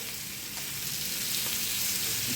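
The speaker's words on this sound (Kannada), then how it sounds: "ಆಮೇಲೆ ಮೀಡಿಯಮ್ ಫ್ಲೇಮಲ್ಲಿ ಇಟ್ಟು ಫ್ರೈ ಮಾಡಿ ನೋಡಿ" White pomfret fish fries in oil over a medium flame, giving an even, continuous crackling sizzle close by at moderate loudness, with no talking.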